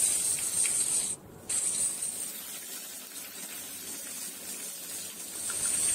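Pointed gourd pieces sizzle in hot oil with a constant close hiss and fine crackle, briefly dipping near the start and then continuing evenly.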